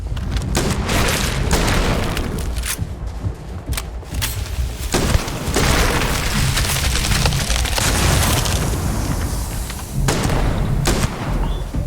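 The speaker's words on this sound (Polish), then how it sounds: "Jeszcze jakaś eksplozja była, w sumie nawet nie wiem od czego dokładnie." Explosions and gunfire in Starfield, a dense run of loud booms and sharp cracks layered over continuous rumbling combat noise.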